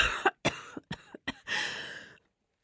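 A person coughs several times in quick, uneven bursts, close and fairly quiet, ending with a longer raspy exhale before silence.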